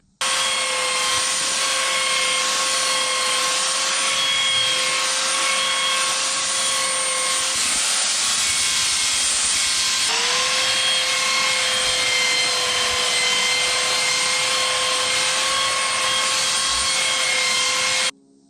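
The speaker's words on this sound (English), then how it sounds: "all I need to do now is sand off my edges, get all this ugly out of it, and just basically pretty it up a little bit" A foam kayak seat has its edges sanded smooth by a power sander, with a loud, steady whine and rough abrasive hiss that runs unbroken and alone before cutting off at the end.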